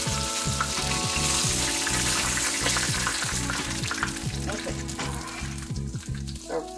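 Steady, loud sizzling of red snapper frying in a pan, with a rhythmic clicking and scraping running underneath throughout.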